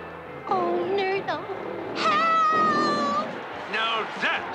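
A cartoon cat meows and caterwauls in several drawn-out, wavering cries, loud and close, with brief gaps between calls.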